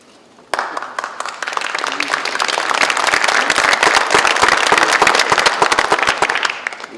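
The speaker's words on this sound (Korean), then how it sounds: "의원님들 박수는 처음 받아보네요." Lawmakers at a party caucus meeting break into sudden applause that starts sharply and builds into dense, loud clapping from a room full of people, sustained until the end.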